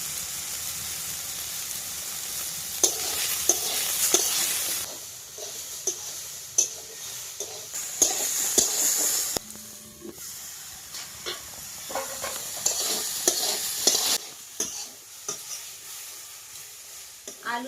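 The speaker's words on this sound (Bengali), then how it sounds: "আলু সজনের ফুল কিন্তু বন্ধুরা ভাজা ভাজা হয়ে গেছে" Potatoes and drumstick flowers frying in a pan with turmeric and salt, a steady close sizzle and hiss with occasional stirring scrapes and clinks, no talking.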